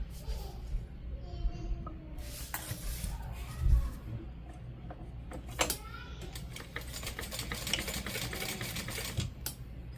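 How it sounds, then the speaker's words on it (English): Sewing machine top stitching a fabric piece during a sew-along, running in bursts of rapid stitching with brief pauses, close and moderately loud, with some faint background chatter. "Last piece, we're going to just top stitch."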